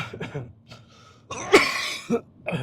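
A few harsh close-up coughs and throat-clearing bursts, loud and uneven, separated by short pauses.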